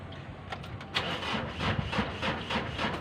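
A Mitsubishi L300 van's starter cranks slowly as the engine struggles to start, a steady churning drone with repeated uneven pulses, close and fairly loud, heard alone.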